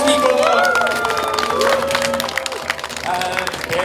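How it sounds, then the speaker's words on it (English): A crowd at an outdoor event cheers and claps in a dense, continuous wash of applause, with voices calling out and a nearby speaker talking over it. "so cheer back, please, people"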